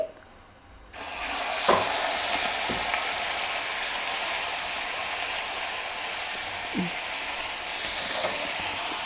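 Bitter gourd frying with chili powder in a pan, a loud continuous sizzle that begins suddenly and stays steady, broken by a few light utensil taps and scrapes.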